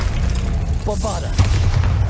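A Bombarda exploding spell cast in Hogwarts Legacy goes off as a sharp, heavy boom partway through, set against a low rumbling background with a brief whooshing sweep just before it.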